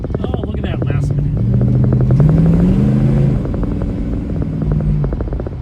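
A 1970 Dodge Challenger R/T convertible with a 383 V8 and Performer RPM intake, running close by with a loud, lumpy, pulsing idle and rev swells, while a person talks over it.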